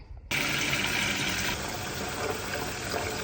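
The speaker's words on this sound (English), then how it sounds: "So first I need to go get some water and fill up my fidget tub with it." Water gushes steadily into a fidget tub, a loud continuous rushing pour that starts abruptly after a brief quiet moment and runs unbroken to the end.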